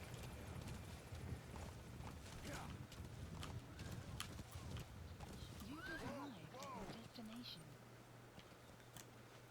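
Horse hooves clip-clop in Metal Gear Solid V: The Phantom Pain, a steady rhythmic trot with a few whinny-like calls and game ambience, under quiet talk.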